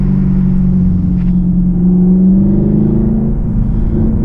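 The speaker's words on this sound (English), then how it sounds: "So it's still loud even with the windows up." Camaro SS 1LE fitted with an MBRP axle-back exhaust, heard from the cabin with the windows up: a loud, steady low drone that swells slightly mid-stretch with a rising engine tone, no voices.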